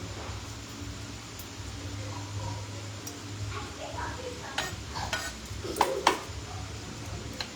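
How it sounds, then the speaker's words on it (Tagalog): Garlic cooking in olive oil in a home kitchen pan, a steady soft sizzle with stirring and a few sharp utensil clinks on the pan near the end, close by. "Ganito po talaga magluto. Maraming bawang. Tapos, olive oil."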